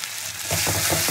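Onion paste cooking in hot oil with a little sugar, a steady broadband sizzle with soft rhythmic stirring strokes, close and moderately loud, no voices.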